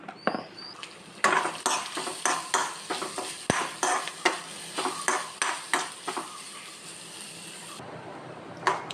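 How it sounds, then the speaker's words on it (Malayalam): Grated coconut roasts in a pan of tempering for dosa chutney, with a steady sizzle and repeated scraping clicks as it is stirred, both loud and close. "തേങ്ങ ചേർത്ത് നല്ല ചുവക്കി ഒന്ന് മൂപ്പിക്കണം"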